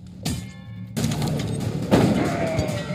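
Gunfire from The Culling video game: sharp bursts and a rattle of shots with crashing impacts, loud and dense over about three seconds, with no talking.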